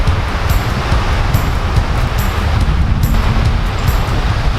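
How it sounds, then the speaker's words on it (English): Strong wind buffets the microphone on an ocean coast, a loud, continuous roaring rush with low rumble and no voices. "Really windy"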